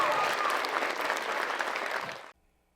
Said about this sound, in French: on peut donner une bonne main d'applaudissement encore à tous nos artistes ce soir